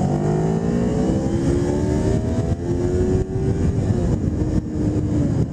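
A 2006 Kawasaki Ninja 250 motorcycle engine revs hard up toward redline, its rising whine sweeping steadily upward with brief dips at gear changes, loud and close throughout.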